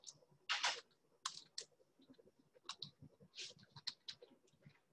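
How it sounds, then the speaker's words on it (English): Quiet, irregular clicking of keys on a computer keyboard as a search is typed, with bursts of quick taps and short pauses, heard close and alone. "suppose you are typing 3D printing"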